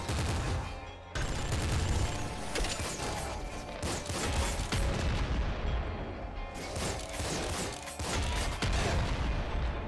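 Rapid enemy gunfire in the video game Nuclear Throne, dense bursts of shots and mechanical clatter filling the clip, loud and continuous with brief breaks, no talking.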